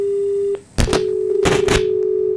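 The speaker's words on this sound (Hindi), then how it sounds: "लगता है फोन डिस्कनेक्ट हुआ है" A steady telephone busy tone sounds right after a call cuts off, a continuous hum that breaks off, returns, and runs on behind two bursts of loud clattering noise.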